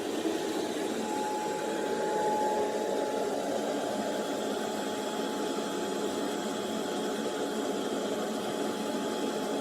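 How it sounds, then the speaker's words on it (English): A Eufy S1 Pro robot cleaner vacuuming a floor, giving a steady, unbroken whir and motor hum with a faint high whine, close and constant throughout with no talk. "This is basically the vacuuming"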